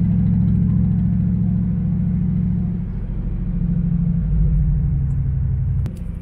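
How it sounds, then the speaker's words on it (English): Hot rod cars cruising through a small town give a loud, close, continuous low engine rumble that holds steady throughout, dipping slightly midway before swelling again. "A lot of hot rods cruising through here."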